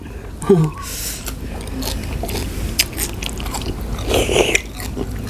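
Fresh, large blanched cockles are eaten outdoors, with close crunching, biting and scraping of shells and chewing, over background noise and some speech.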